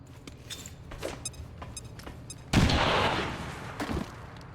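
Frag grenade detonation in XCOM 2: after a few light clicks and taps, a loud sudden blast erupts and rumbles for over a second, followed by a sharper report.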